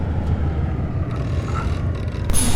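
A bus in the driving game City Transport Sim Bus rumbles and rattles steadily, a continuous low engine and body shake that swells slightly at the end, with no voices.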